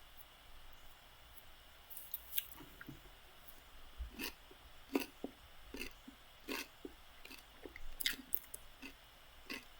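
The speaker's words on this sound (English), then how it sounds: "Because I can crunch closer to the camera if you guys want to." Crisp, wet crunches from someone biting and chewing a pickle close to the microphone, a dozen or so sharp bites spaced irregularly over quiet room tone, with no talking.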